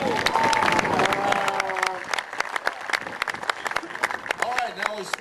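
Crowd applause at an air show, dense clapping from a large outdoor audience that thins to scattered claps over the second half, with a voice and tonal sounds running underneath.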